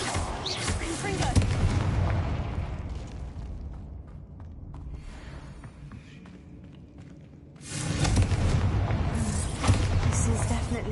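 A Confringo spell blast in Hogwarts Legacy, a loud booming burst with rumbling debris that fades into quieter ambience, then a second heavy roar of noise swells up later.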